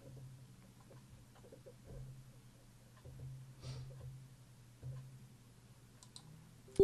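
A few faint, sharp mouse clicks during a Python install, spaced apart over a steady low computer hum, quiet and close, with no voice.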